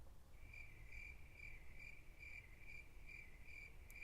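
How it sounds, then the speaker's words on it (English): Crickets chirping in rhythmic pulses about twice a second, faint and steady over a quiet low background hiss, no voices. "It's the infamous political crickets."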